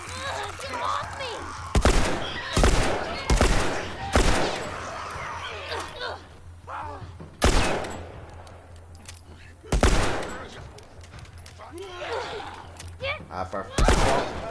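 Bursts of gunfire in The Last of Us set piece, with loud, sharp shots clustered irregularly across the clip over a steady low hum, separated by quieter stretches where someone talks.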